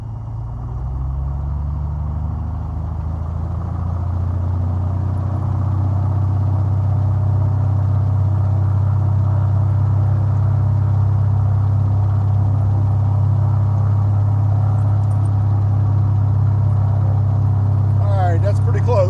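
A small aircraft piston engine, registration N5259S, runs up to about 2,000 RPM after possible plug fouling. A deep, loud, steady droning rumble rises in pitch and power over the first few seconds, then holds evenly.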